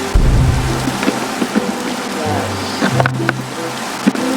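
Steady rain falling in a Roblox Attack on Titan game, a dense continuous hiss with low rumbles and a few brief knocks, with some faint speech-like sound underneath throughout.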